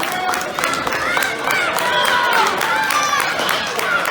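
Wrestling crowd cheering and clapping in an arena, a dense, steady roar of voices with scattered claps and whistles throughout, loud and continuous.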